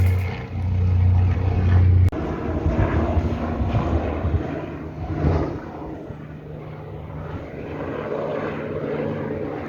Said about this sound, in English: See the helicopter come back home.